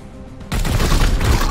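Gunfire in Warhammer 40,000: Chaos Gate Daemonhunters breaks out abruptly after a quiet moment into a loud, sustained burst of rapid shots and blasts, close and without speech.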